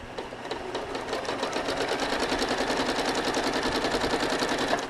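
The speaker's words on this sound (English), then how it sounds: "what I'm going to do is stitch in the ditch across the bottom here" A home sewing machine stitches in the ditch across a quilt block, guided along a ruler, in one fast, even run of needle strokes at close range with no talk.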